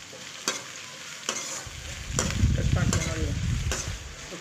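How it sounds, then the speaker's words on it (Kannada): Curry leaves fry and are stirred in hot oil for capsicum rice, giving a steady close sizzle with a few sharp spoon scrapes against the pan, no voices. "ಸ್ವಲ್ಪ ಕರಿಬೇವು ಸೊಪ್ಪನ್ನು ಆ್ಯಡ್ ಮಾಡಿ ಮಿಕ್ಸ್ ಮಾಡ್ಕೊಳ್ಳಿ ಚೆನ್ನಾಗಿ ಎಣ್ಣೆಲಿ"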